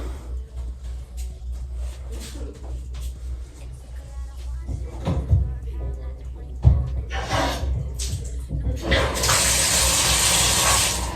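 Water runs steadily in a home shower as a broad, continuous hiss that swells louder toward the end, with occasional knocks and bumps nearby.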